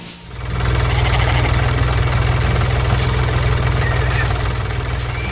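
A red tractor works hard hauling a hay baler in a field, its engine idling and chugging steadily with a loud, close, continuous low rumble and rapid knocking pulse throughout.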